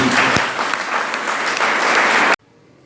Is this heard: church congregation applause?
yes